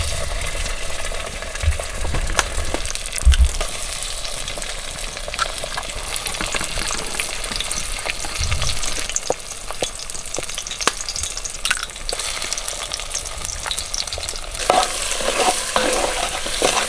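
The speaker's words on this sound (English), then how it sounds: "Scrambled eggs, full of dirt and oil." Scrambled eggs fry in bacon grease over a campfire, a loud continuous crackling sizzle lasting throughout with occasional scrapes and soft thumps.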